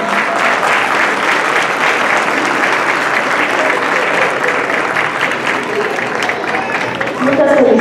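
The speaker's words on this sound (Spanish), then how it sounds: "pido un fuerte aplauso" Loud, sustained applause fills a school's 50th anniversary ceremony, a crowd clapping steadily and evenly from start to finish with some voices faintly mixed in near the end.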